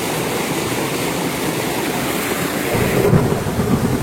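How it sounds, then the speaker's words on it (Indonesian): Light rain falls steadily on a mountain trail on Mount Pangrango via Cibodas, a dense, even hiss that thickens slightly toward the end, with no voices. "Hujan tiba-tiba datang meski tak deras"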